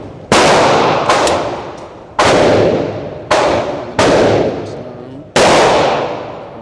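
Loud, close gunshots from an M&P 2.0 9mm pistol fitted with an FRT trigger ring out at a range: six sharp cracks in uneven spacing, each trailing a long echoing decay.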